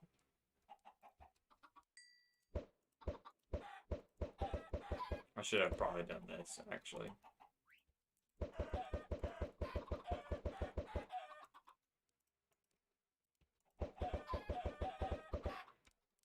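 Chickens clucking in a video game, a rapid series of sharp clucks in several bursts with pauses between, with a person talking briefly alongside.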